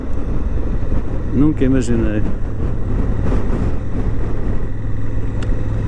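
A 2017 Honda Africa Twin motorcycle being ridden on a test ride, its engine giving a steady low drone with wind noise throughout, while the rider speaks briefly over it.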